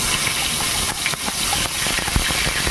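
Fenugreek seeds tempering in hot oil for a taro root curry, giving a steady close hiss with faint crackles and pops throughout, no voices.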